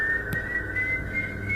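A single high, steady whistled tone holds throughout, eerie and sustained, over a low murmuring background, linked to the El Silbón legend.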